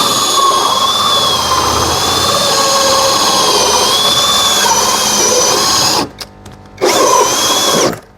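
A power drill whines steadily as it bores into a thick plastic drum, loud and continuous, then briefly stops and starts again near the end.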